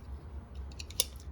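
Scissors snip through excess thin quilt batting, a quick run of crisp, close cuts ending in one sharper snip, quiet and alone.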